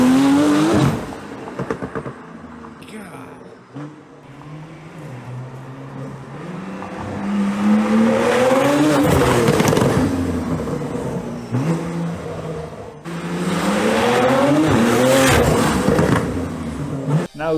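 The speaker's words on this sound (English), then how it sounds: "Now there is a sick sounding 992." A tuned Porsche 992 with free-flowing cats and an aftermarket exhaust launches and accelerates hard, its loud rising engine note climbing through gears in repeated pulls with brief shift dips, heard close and without talk.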